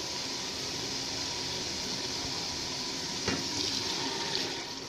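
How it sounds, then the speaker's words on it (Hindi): Water poured into a pot of fried green chickpeas for pulao, a steady close rushing splash running throughout with a brief clatter near the end. "अब इसमें हम पानी ऐड करेंगे।"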